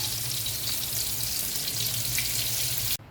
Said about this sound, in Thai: แต่ตอนนี้ณเวลานี้ก็คือทอดเนื้อปลา